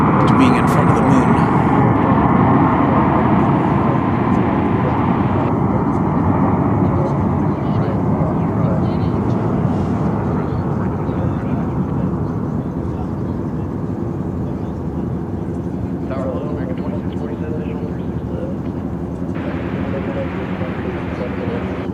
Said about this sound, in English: You hear a plane